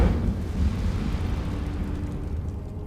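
A deep, rumbling burst of flame from the Incendio fire spell in Hogwarts Legacy, loud and immediate at the start, then a sustained low roar that slowly fades.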